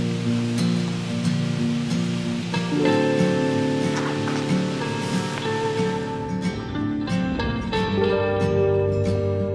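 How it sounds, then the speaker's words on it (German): A short, heavy rain shower pours down outdoors on a hiking trail in the Nördlinger Ries crater region, a steady, dense wash of noise lasting throughout with no voices. "Ein kurzer, kräftiger Regenschauer und wir sind komplett durchnässt."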